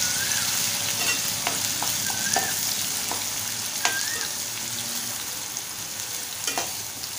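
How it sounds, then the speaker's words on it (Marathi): Finely chopped onions fry in hot oil with a steady, close sizzle, punctuated by occasional scraping clicks of stirring throughout; no one speaks. "तेल आपलं मस्त गरम झालंय, त्यामध्ये आपण बारीक चिरलेले कांदे घालून घेऊया।"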